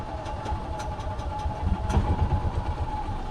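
A Tracker OX400 off-road vehicle idles nearby with a steady low rumble and faint periodic ticks, the engine swelling slightly midway before settling back to an even idle.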